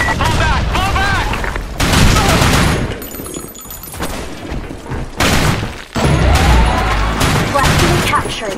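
Gunfire and a grenade explosion in the PC shooter BlackShot during a flag-capture match, with loud sustained bursts of automatic fire and heavy blasts, under shouted game voice lines.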